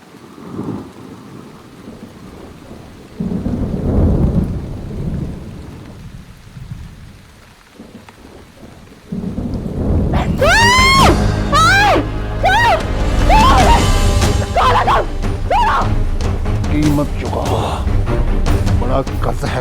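Heavy rain pours down with thunder, at first softer under people talking, then swelling into a loud, close, steady downpour with rumbling thunder that fills the rest.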